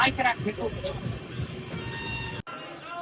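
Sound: passenger train running

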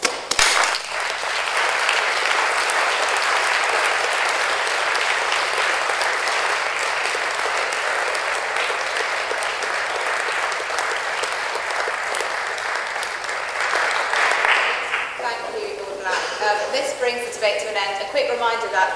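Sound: audience applause in a debating chamber

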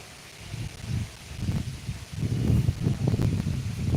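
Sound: wind rustling tree leaves

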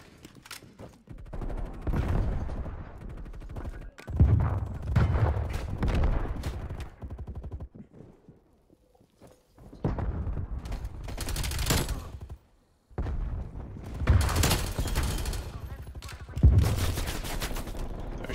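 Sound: gunfire in Black Ops Cold War video game

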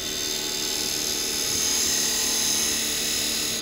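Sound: carbide woodturning chisel cutting a bowl on a lathe

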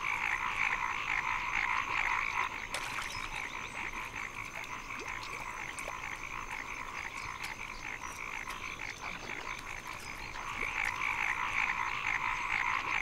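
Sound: frogs croaking in Southwest China

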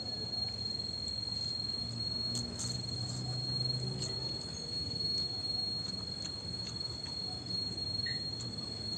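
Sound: crickets chirping

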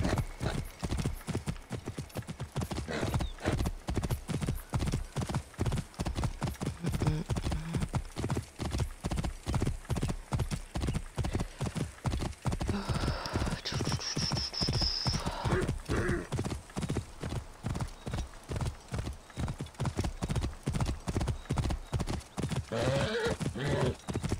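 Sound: horse hooves and neighing in video game

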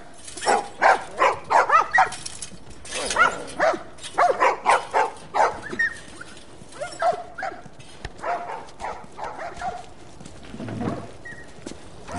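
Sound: dogs barking in video game The Last of Us Remastered

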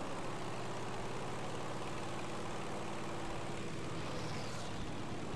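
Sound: plane engine in video game Battlefield 5

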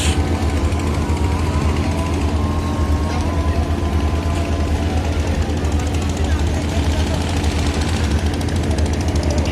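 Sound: trawler boat engine running

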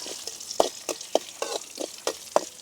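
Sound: garlic and curry leaves frying and stirred in oil

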